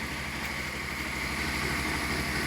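Generator engine running at a house construction site, a steady droning hum with an even low pulse, continuous and unchanging.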